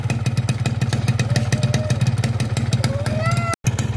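A Win 2T Plus two-stroke motorcycle engine with oil injection and a rich setting runs at a loud, close, rapidly pulsing idle, with a faint voice over it and a brief dropout near the end.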